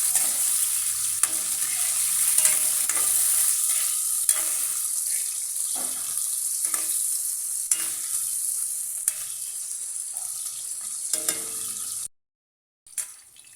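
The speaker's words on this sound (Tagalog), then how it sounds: "i-fry lang natin to mga sis, yung ating carrots at saka patatas" Carrots and potatoes frying in a pan for chicken curry, a steady loud hiss broken by repeated scraping stirs from a utensil. A brief drop to near silence comes near the end.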